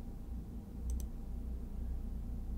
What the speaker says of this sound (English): click My Stores in the left navigation menu